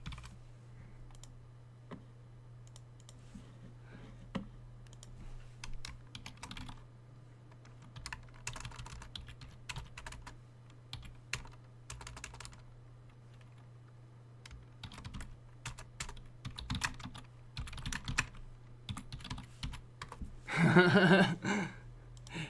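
Fingers tap steadily on the keys of a standard computer keyboard, with rapid, close clicks in bursts over a low steady hum, plus a brief louder rustle or breath near the end.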